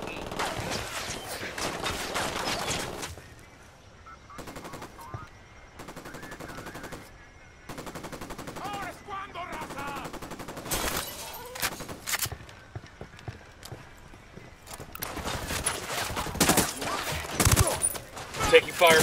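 Gunfire from an enemy checkpoint in Ghost Recon Wildlands: bursts of shots come in clusters between quieter gaps, with game sounds and talk mixed in. The firing grows louder and denser near the end.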